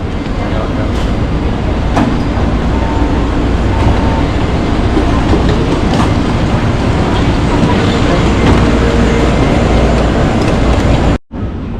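A Taipei metro train on the purple line runs loudly and close, with a steady rumbling roar, faint clicks and rail noise throughout, ending in a brief sudden drop in sound.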